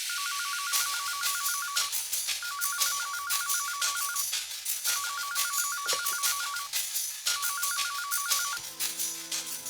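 A telephone rings after a call is placed, in four evenly spaced bursts of rapid trilling ring tone, loud and clear with a steady rhythm and no speech over it.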